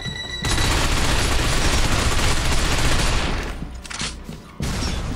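Sustained heavy gunfire roars loud and dense in the Binary Domain video game, breaking off briefly near the end before another burst resumes.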